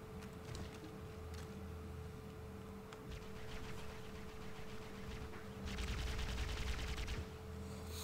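Sustained rapid gunfire against Flood enemies on Halo 1's Keyes mission, a steady rattling stream of shots over constant game ambience, swelling louder near the end.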